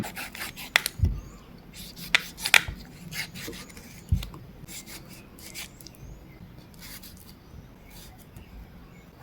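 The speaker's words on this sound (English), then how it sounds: "Chop them up." Fresh tomatoes chopped with a knife on a board, a series of irregular sharp taps and cuts, some closer and louder, with soft rubbing and scraping between strokes.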